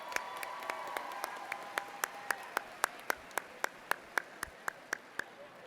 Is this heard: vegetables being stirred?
no